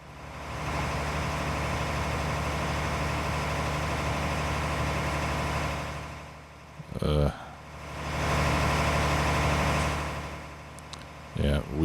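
A tractor engine labours at a steady drone while pulling a plow in Farming Simulator 19, with the wheels spinning. The drone dips briefly, then swells again while someone talks over it.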